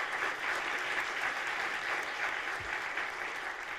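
An audience claps together in steady, dense applause that fills the room without pause, fairly loud and close, with no voices standing out.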